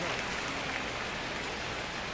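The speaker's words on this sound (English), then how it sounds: "It feels like we might be headed towards a rain delay if the weather doesn't ease up, Chris." Rain falling on a baseball stadium in the video game MLB The Show 25, a steady dense hiss of drops with faint crowd murmur beneath.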